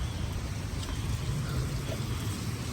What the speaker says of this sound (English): Right now rain really fall hard like that.